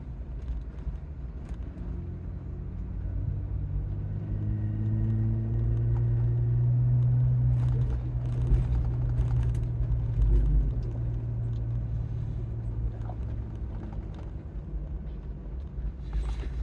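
A Jeep with a Teraflex Falcon Nexus 2.2 steering stabilizer drives over road bumps: a steady low cabin rumble with a swelling engine drone, then scattered thumps and jolts as the tires strike bumps.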